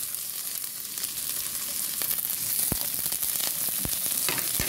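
Onion and garlic for pork adobo sizzle and fry steadily in a hot pan, a constant hiss with a few brief stirring clicks and knocks.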